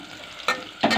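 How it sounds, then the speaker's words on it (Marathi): Onion being sautéed in a pan, a steady close sizzle with two louder bursts of stirring or scraping near the middle and at the end. "आता हे कांदा घेतला परतून"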